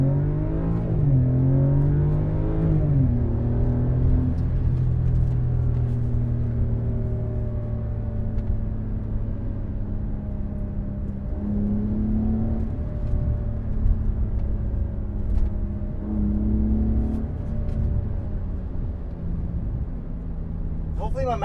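A BMW F10 5 Series with an Eisenmann axle-back exhaust accelerating in Sport Plus mode, heard from inside the car as a steady, loud engine drone that rises in pitch through several gear pulls.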